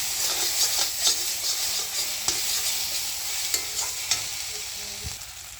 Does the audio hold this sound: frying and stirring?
yes